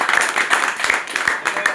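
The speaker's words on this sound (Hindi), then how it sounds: "और जोरदार एक बार और जोरदार ताली चाहता हूँ" Audience at a Hindi-language RCM direct-selling motivational event claps in a dense, steady burst of applause, while a voice carries over it.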